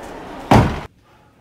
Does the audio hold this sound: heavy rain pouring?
no